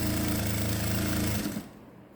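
A sewing machine runs steadily while stitching patiala pants, a fast even mechanical hum close by that stops abruptly near the end.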